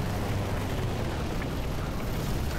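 Grenade launcher blasts in Battlefield 2042, fired from a high vantage point near a runway at a tank: a dense, continuous low rumble of explosions and battle noise fills the whole stretch with steady loudness.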